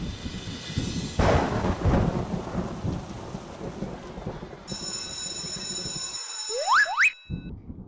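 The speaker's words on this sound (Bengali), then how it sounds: "বৃষ্টি তো সকাল থেকে পড়ছে" Cartoon rain falls steadily with a deep roll of thunder early on. Toward the end, high tonal ringing and sweeping effects rise over the storm before it briefly cuts out.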